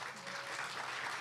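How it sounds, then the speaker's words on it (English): An audience at a platform day livestream claps for two speakers, a brief, fairly quiet, steady patter of many hands. "I think just a round of applause maybe for the two."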